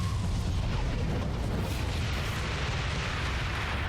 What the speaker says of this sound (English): Gotta love that explosion.